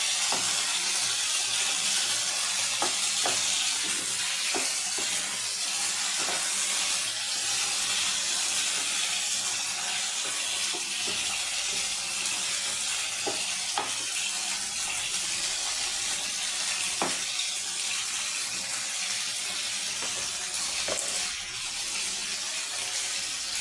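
Chopped tomatoes sauté in oil in a pan for a quick tomato thokku, giving off a dense, wet, steamy hiss with a few scattered spatula taps and no talking.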